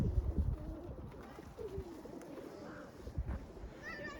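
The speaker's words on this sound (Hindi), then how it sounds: "इतने ज़्यादा कबूतर हैं यहाँ पे कि लग रहा है कि जैसे पत्ते हैं पेड़ों पे" A large flock of pigeons perched in snowy trees coos softly at a distance, with low rumbling background noise and faint bird calls throughout, and no clear speech.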